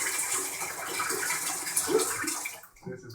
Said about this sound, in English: I'm just swishing the water up so it's nice and bubbly and soapy